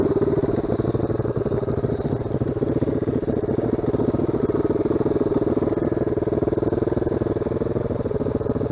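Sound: off-road motorbike riding trail past mud puddles

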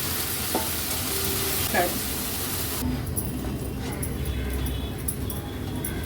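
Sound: sautéing tomato ketchup, ginger-garlic-chili crush and Kashmiri chili powder

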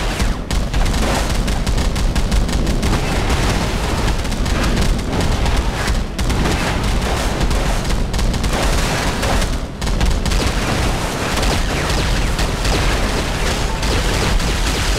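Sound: turret gunfire in the video game Fantastic Four

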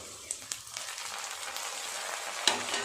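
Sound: frying onions with chopped tomatoes added

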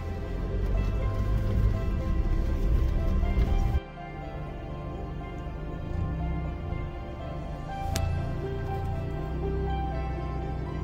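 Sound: waterfall beside mountain road in Spiti Valley

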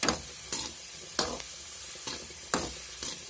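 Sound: tempering spices frying in a clay pot

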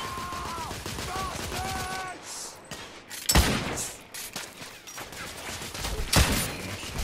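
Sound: gunfire in The Order 1886 video game

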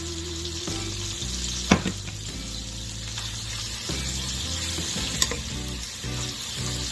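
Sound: stirring potato filling sizzling in a pan

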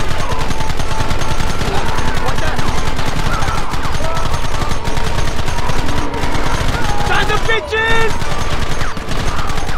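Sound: gunfire in a shootout, from the video game Red Dead Redemption

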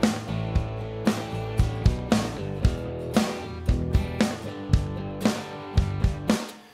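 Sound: drum track with kick and snare in SONAR

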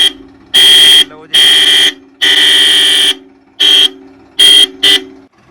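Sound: loud tractor horns

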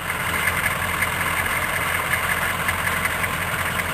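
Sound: Chevrolet Suburban 6.2 non-turbo diesel engine idling

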